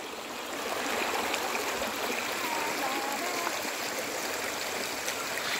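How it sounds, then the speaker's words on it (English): A river flows below Amirthi Falls near Vellore, a steady broadband rush of running water heard close and continuous throughout, with no voices over it. "the river that follows the falls"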